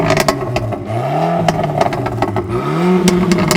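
An Abarth Rivale with its factory Akrapovic exhaust revs loudly, the engine note rising and falling in two clear sweeps with crackles and pops between them, close and dominant throughout.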